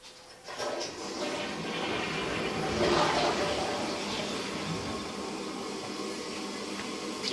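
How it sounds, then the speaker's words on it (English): A toilet in a house is flushed, starting with a sharp click of the handle, then a rushing swirl of water that swells, peaks and settles into a steady refilling hiss, heard from nearby. "Can you flush that toilet again?"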